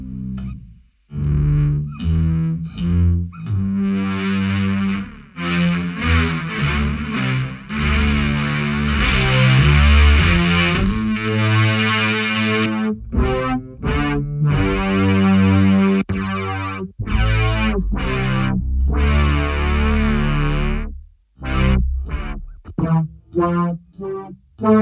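A BOSS SY-1 guitar synth pedal on string type 1 with drive turns a guitar part into a loud, distorted, string-like synth tone with a chorus shimmer, held chords and choppy phrases running continuously with no talking.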